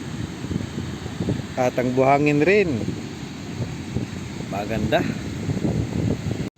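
Strong wind blows at a beach in Lanca, Mati City, Davao Oriental, making a steady, rough rush against the microphone. A person talks over it in short phrases.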